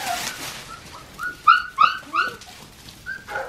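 Newborn puppies give high, thin whimpers and squeaks in short repeated bursts, some louder than others, close by in a quiet room with no talking.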